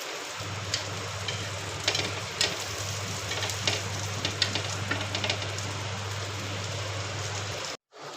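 Raw banana slices frying in a little oil on a tawa griddle, a steady close sizzle with scattered crackles and pops that runs on evenly under a low hum, then cuts out briefly near the end.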